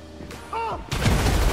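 A grenade explodes in a port shootout in GTA 5, a sudden loud boom with a crackling, rumbling tail, following brief overlapping voices and game sounds.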